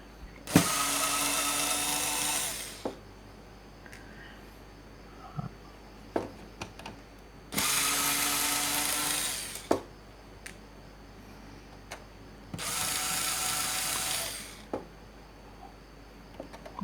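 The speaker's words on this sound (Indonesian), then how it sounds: "Oke, dengan obeng cordless saja masih butuh waktu ya." A cordless screwdriver drives screws while modifying a power distribution unit, giving three separate bursts of steady whirring, each a few seconds long, with quiet pauses and small clicks between them.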